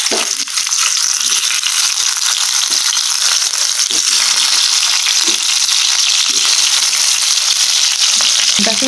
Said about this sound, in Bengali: এখন রসুনগুলো ওই তেলেতে ভেজে নেব